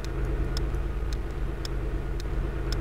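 Car engine in a driving test simulation game, a steady loud low rumble with evenly spaced sharp clicks over it, no talking.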